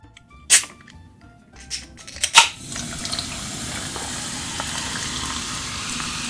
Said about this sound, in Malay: mula kita tuang air dulu